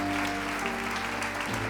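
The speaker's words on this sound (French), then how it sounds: "Oh oui, on peut les applaudir" A church congregation applauds the worship music group, a steady dense clapping over a faint sustained tone.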